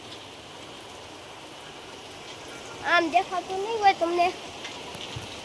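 Steady rain falls outside as a soft continuous hiss of drops on surfaces, running through the whole stretch while someone speaks briefly in the middle.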